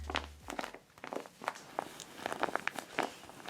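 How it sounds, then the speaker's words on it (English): A homemade cotton-stuffed fidget toy is squeezed repeatedly, giving soft crinkly rustles and squishes in an irregular rhythm, close and quiet. "depending on the sound that you want your fidget to make"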